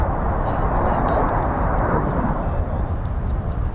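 Low approach by F-15E Strike Eagle fighter jets of the USAF 48th Fighter Wing at RAF Lakenheath, a loud, steady broadband jet roar that fills the whole stretch without letup.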